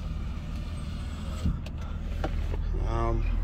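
A Toyota Land Cruiser FZJ80 electric power window motor runs briefly near the end, a short whirring over a steady engine idle, with a voice speaking just before.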